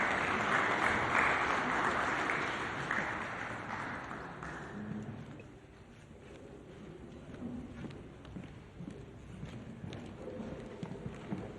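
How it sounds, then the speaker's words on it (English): Audience applause at a municipal investment summit in Matjhabeng, a dense sustained clapping for about five seconds that then thins into quieter scattered hall noise. "A round of applause"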